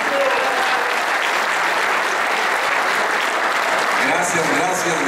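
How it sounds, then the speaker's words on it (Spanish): Steady, dense applause from a seated audience at a Spanish-language talk by retirees, continuous and fairly loud throughout with no break. "Gracias, les agradezco mucho sus aplausos."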